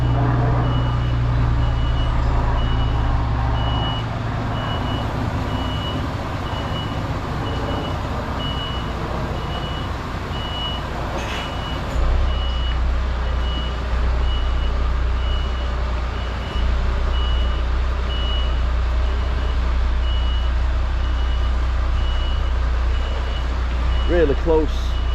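A truck reverses in tight quarters in Southport, its steady reversing beeps sounding in an even rhythm over the loud diesel engine rumble, while someone talks throughout.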